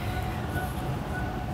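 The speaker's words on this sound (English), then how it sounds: "Oh, I got on the wrong train." Steady rumbling clatter of a subway train in motion near Dufferin Station, heard from inside the car, a continuous mid-loud roar of wheels and carriage without clear speech.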